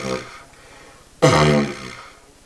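A wind instrument is blown with lips too loose, so no drone forms. A single loud, flappy, sputtering burst sounds close by, then dies away, with no voices.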